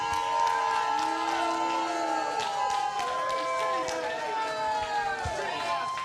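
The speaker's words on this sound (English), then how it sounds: "Let's all give them a round of applause" Wrestling crowd at an NWA event cheering and whooping loudly and continuously, with shouts and voices layered through a dense, steady roar of the arena audience.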